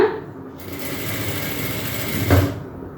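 An electric sewing machine stitches a petticoat in one steady, fast whirring run lasting about two seconds, close and clear, before stopping.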